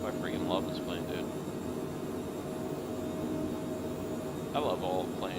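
A Cockspur PH100 Phenom business jet in flight in Microsoft Flight Simulator, a steady, hissing cabin engine drone that continues throughout at moderate level, with someone talking over it.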